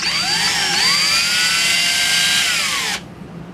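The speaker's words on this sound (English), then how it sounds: "I reverse the drill direction." A cordless power drill running in reverse to free a blind rivet adapter gives a steady high whine with a slight dip in pitch early on, loud and close, then cuts off sharply near the end, leaving quiet room tone.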